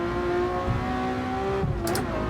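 A McLaren F1 '94 in Gran Turismo 7 with an H-pattern shifter: a sustained high engine drone climbs steadily, dips with quick gear changes, then revs on, loud and continuous with no talking.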